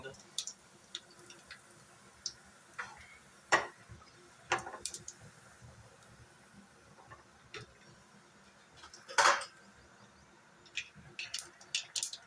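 Mustard seeds, cumin and a pinch of asafoetida splutter in hot oil for a drumstick sabzi, giving scattered sharp pops and crackles at irregular intervals over a quiet background.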